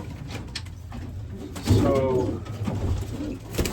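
Racing pigeons coo inside a loft, soft rolling calls rising in the middle, with shuffling and a short spoken word under the birds.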